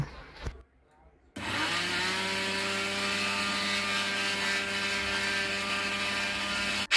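An electric grinder whirs steadily as it powders whole cumin seeds, starting after a brief pause and running at a constant loud pitch to the end.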